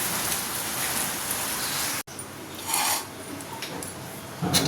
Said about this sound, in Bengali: পুরো বর্ষাকালের মতন অন্ধকার করে বৃষ্টি পড়ছে